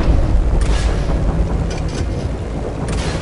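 Rocket explosions in the video game Just Cause 3, a loud, continuous rumble of overlapping booms with several sharper blasts cutting through, dense and close, with no talk over it.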